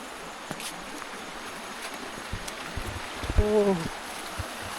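A forest stream with a small waterfall in rural Laos rushes in a steady, soft wash of flowing water throughout, with a brief voice cutting in near the end.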